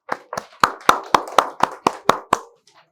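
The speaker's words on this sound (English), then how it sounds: "A round of applause for all of you." An audience at a biodiversity conservation stakeholder session claps in about ten distinct, evenly spaced claps, close and fairly loud, then stops.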